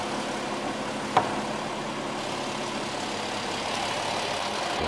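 Porsche automatic transmission, an 8-speed TR80-SD, with the car's engine idling steadily during an oil change, a low continuous hum with one brief metallic clink.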